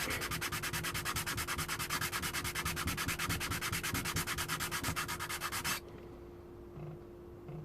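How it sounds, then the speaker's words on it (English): Sandpaper rubbed back and forth around the edges of a BMW 7 Series E65/E66 key fob, a quick, even rasping rhythm heard close up that stops abruptly near the end, leaving faint handling noises. "I'm starting to get the sandpaper going all the way around"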